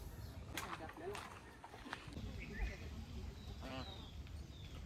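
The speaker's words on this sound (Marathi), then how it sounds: "आत्ता इथं बदक दिसले 3-4 प्रकारचे" Ducks of three or four kinds quack now and then at a distance at a lake on Taljai hill, Pune, under steady outdoor background noise and some nearby voices.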